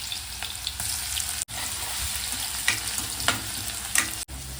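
Crushed garlic dropped into hot oil in a kadhai, a sharp close sizzle with a few louder spatters and stirring bursts, broken by two abrupt cuts.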